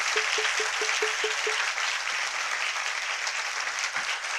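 Audience applause for the poet Chandrasen, a dense and steady burst of clapping from a crowd that holds across several seconds, with a brief ringing tone near the start.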